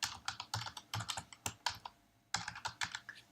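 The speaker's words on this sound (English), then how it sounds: "I need to be able to type in the correct answer." Fast typing on a computer keyboard, a close run of crisp key clicks in quick bursts with a short pause midway, quiet and alone.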